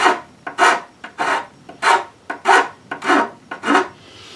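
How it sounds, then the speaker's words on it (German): A rounded file rasps back and forth on a motor scooter part in eight steady, close strokes with short gaps between them. "diese Feile genommen mit der Abrundung"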